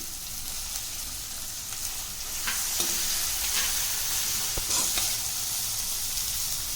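Beans and capsicum stir-fry over a high flame for veg fried rice, a dense, even sizzle that swells partway through, with a few light spatula taps against the pan.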